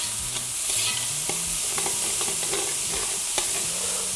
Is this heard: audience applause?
no